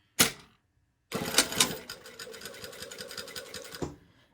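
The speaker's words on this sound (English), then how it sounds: "I'm going to sew all the way around the cuff" A sewing machine stitches around a shirt cuff, starting with a brief burst, pausing, then running in a steady, close, continuous stitching rhythm for about three seconds before stopping.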